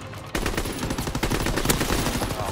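Dense automatic gunfire from the video game Call of Duty WWII, a sudden loud burst of rapid, continuous shots that keeps hammering without pause.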